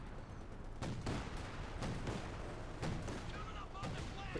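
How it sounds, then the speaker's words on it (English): Artillery fire in the real-time strategy game Company of Heroes 2 during a 1v1 match: repeated heavy booms and scattered shots in a battle, under the continuous voice of a commentator. "Artillery fire here."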